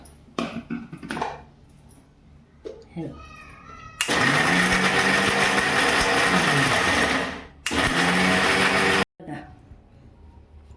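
A kitchen mixer grinder whirs loudly for several seconds while grinding coconut for a methi vegetable dish, a steady high motor roar that stops, restarts briefly and cuts off, with a voice talking before and after.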